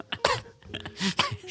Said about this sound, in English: And they cough something up.